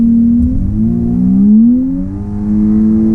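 A 2025 Volkswagen Atlas SEL SUV accelerating, its engine hum rising in pitch, dipping briefly as it downshifts, then climbing again, steady and close from inside the cabin.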